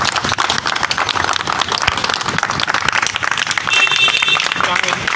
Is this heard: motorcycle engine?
no